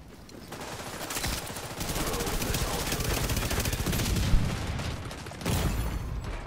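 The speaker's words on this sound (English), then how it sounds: "don't forget we're firing 900 rounds per minute" Lady Death submachine gun in The Division 2 firing very rapidly, a dense, loud continuous stream of shots for several seconds, briefly pausing before another burst near the end.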